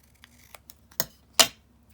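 Scissors cutting through a sheet of misprinted paper sheet music, heard as two close snips, the second louder, with a few faint paper rustles and taps around them and no talk.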